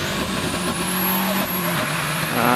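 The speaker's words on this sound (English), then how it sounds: "And that noise heralds the Subaru Legacy of Damien Bradley" A Subaru Legacy hillclimb car, 2.35 litres, approaches up the course at Prescott during the British Hillclimb Championship, its engine note droning and slowly rising in pitch, steady and fairly loud with no talk over it.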